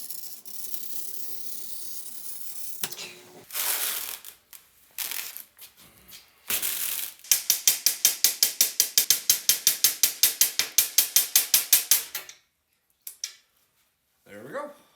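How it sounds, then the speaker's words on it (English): Glass being cut for a custom picture frame: a scoring tool ticks and rasps across the pane in a rapid run of sharp clicks, with scattered handling knocks before and a few snaps after, close and loud. "let's see if I've learned anything about cutting glass"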